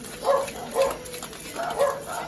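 Small dogs barking indoors at an air ambulance outside, four short, sharp bursts of yapping, fairly close and evenly spaced, with no talk over them.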